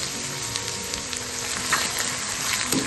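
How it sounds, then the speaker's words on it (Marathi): Squeezed radish and radish leaves sauté in a hot pan with coriander powder, giving a steady, close sizzle with light stirring and no talk. "आणि याला मिनिटभर परतायचं"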